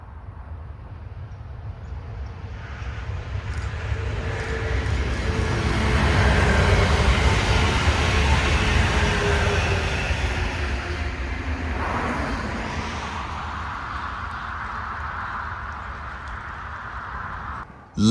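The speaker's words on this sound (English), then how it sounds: "the northbound BrightPink train." A northbound Brightline passenger train in Orlando, Florida, races by at over 100 mph below a bridge, a broad rushing rumble swelling to a loud peak midway and then slowly fading as it moves off.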